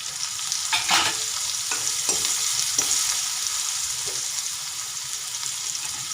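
Raisins and green garlic fry in very hot oil for green tuver kachori, giving a steady close sizzle with a few stirring scrapes and no talking.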